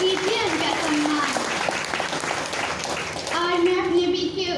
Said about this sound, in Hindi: निवेदन करती हूँ जोरदार तालियों से कीजिए उनका सम्मान